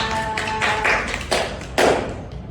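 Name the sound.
class applause for a student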